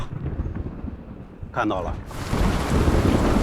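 Heavy rain pours down on an outdoor night field-exercise site, with a burst of thunder-like rumble midway that gives way to steady, loud downpour; a brief voice speaks early on.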